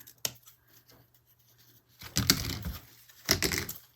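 Scissors cut paper for a craft bow, giving a few close, crisp snips and crunching slices separated by short quiet gaps.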